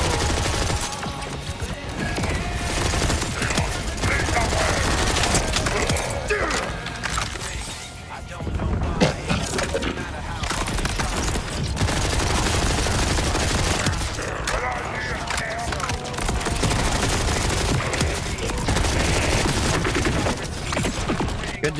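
Rapid gunfire from the shooter video game Borderlands 4 in dense, sustained bursts with crashes and booms, loud and continuous across the stretch with a brief lull near the middle, layered under game sound and faint voice.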